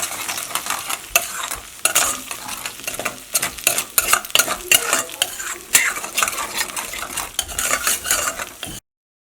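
Scrambled egg for egg Maggi is stirred and fried in a pan, with a spoon scraping and clinking in uneven bursts over a soft sizzle, close and fairly loud, with no talk.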